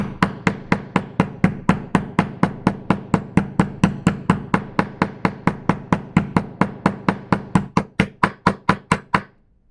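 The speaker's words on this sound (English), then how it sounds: "I actually find one technique when I'm hammering is to go around it rather than just on top of it." A hammer taps metal eyelets into a hoodie's fabric hood rapidly and steadily, dozens of sharp, even strikes in a quick rhythm, close by, then a few slower final blows.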